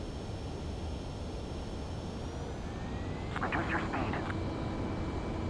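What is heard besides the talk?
F-104C Starfighter jet approaching runway in Ace Combat 7 video game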